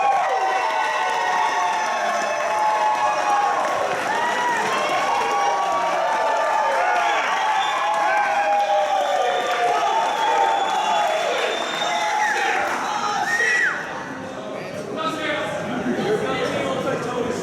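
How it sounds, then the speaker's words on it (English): A convention crowd at an Iron Bartender cocktail competition applauds and cheers for a challenger from Knoxville, Tennessee, a long sustained roar of clapping, whoops and shouts that eases slightly near the end. "Big round of applause, everybody."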